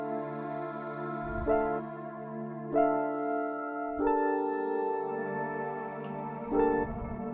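A soft atmospheric synth pad sustains under a beat, its chords shifting every second or so, joined by faint low thumps, quiet and alone without any talk.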